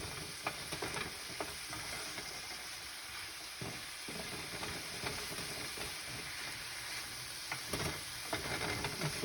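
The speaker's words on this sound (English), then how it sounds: "See, that's just cooking, sauteing" Vegetables sautéing in a pan for udon soup, with no tofu, give off a steady sizzling hiss and soft stirring scrapes, close and continuous throughout with no voices.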